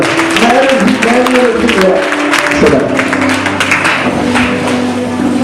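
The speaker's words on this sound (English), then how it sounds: "Clap your hands." A church congregation claps hands together in worship, dense rapid clapping throughout with voices and musical tones mixed in, loud and close.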